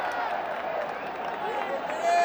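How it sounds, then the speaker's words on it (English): A packed cricket stadium crowd roars steadily through a Bangladesh Premier League 2025 eliminator, Rangpur Riders against Khulna Tigers, a dense, continuous wash of noise that swells slightly near the end, with broadcast commentary over it. "I don't know if our viewers could hear the roar of the crowd."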